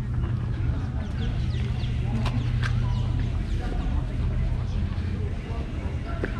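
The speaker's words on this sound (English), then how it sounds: "A lot of birds here too." Birds, likely chickens, cluck in the grounds of Topkapi Palace in Istanbul, with faint scattered calls under constant outdoor crowd noise and nearby talking.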